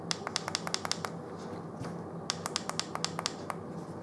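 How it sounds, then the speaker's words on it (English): Rapid sharp clicks from the button of an ENCOM Snow Leopard 150 watt box mod, heard as two quick bursts of several close, crisp taps separated by a short pause, near and fairly quiet. "Five clicks to turn it on."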